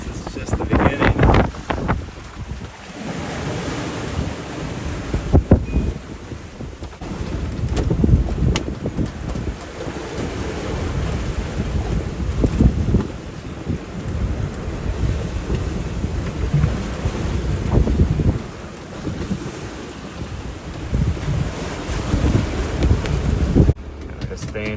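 Strong wind buffets a sailboat at sea amid big waves, a steady loud roar with gusty surges and microphone rumble throughout, heard from below deck with no talking.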